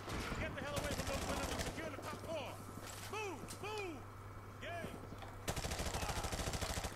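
Rapid automatic gunfire in Modern Warfare 2 Remastered rattles in dense bursts at the start and end, with scattered shots, mechanical clatter and a voice calling out in between.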